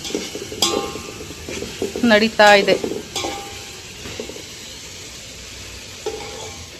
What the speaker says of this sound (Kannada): ಇವಾಗ ಈರುಳ್ಳಿ, ಟಮಾಟೆ ಹಣ್ಣು, ಮೆಣಸಿನ್ಕಾಯಿ ಎಲ್ಲ ಫ್ರೈ ಆಗಿದೆ ಅನಿಸುತ್ತೆ